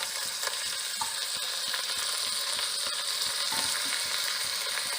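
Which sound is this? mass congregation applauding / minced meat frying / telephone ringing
minced meat frying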